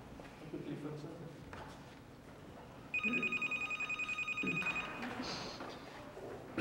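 Telephone bell ringing in a home, a rapid electronic trill that starts midway and repeats in quick pulses for about two seconds, with faint background talk and movement before and after.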